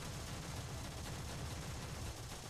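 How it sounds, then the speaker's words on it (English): A video game airstrike lands as a loud, unbroken wall of rumbling blasts and rapid gunfire-like crackle, with dense low booms throughout and no voices. "I'm calling an airstrike"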